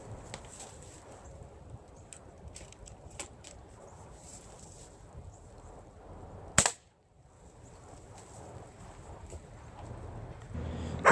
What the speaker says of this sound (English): We're going to shoot again.